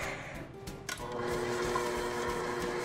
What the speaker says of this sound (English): Just gonna mix it on medium speed for about 2 minutes